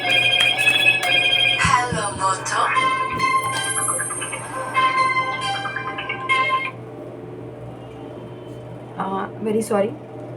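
A mother's mobile phone plays a melodic ringtone nearby, a bright repeating tune that carries on for several seconds before stopping, heard under and between a person talking.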